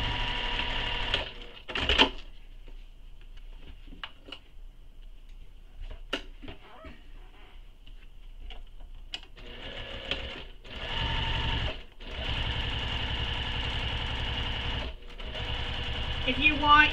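Decorative stitching on a small crossbody bag comes from a close sewing machine, which starts after a quiet stretch of faint handling sounds and then runs in long steady bursts broken by brief stops.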